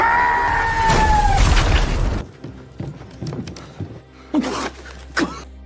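A deep grenade boom with rumbling debris shakes a house in the first two seconds, then quieter scattered thuds and rattles follow as things settle.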